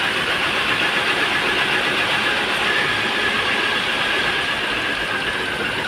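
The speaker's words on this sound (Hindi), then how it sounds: "इंजन की हालत, ऑन पेट्रोल है ये।" A petrol Renault Kwid's engine runs with a misfire, a dense continuous rumble with rattling vibration that stays loud and close throughout, with no speech over it.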